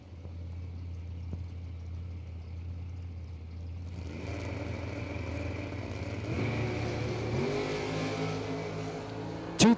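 An S10 pickup truck at a drag strip idles with a low rumble, then the engine note rises into revving and acceleration that builds louder toward the end.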